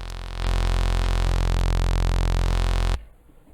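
Harsh, loud bit jam distortion from the Distructor plugin in FL Studio, a dense buzzing, crackly tone that holds steady for about three seconds, then cuts off abruptly into near silence.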